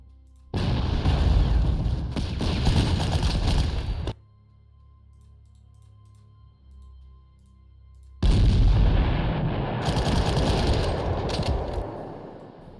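Heavy artillery fire in the Panzer Corps wargame set in East Africa, two long loud dense booming barrages separated by a few seconds of near silence.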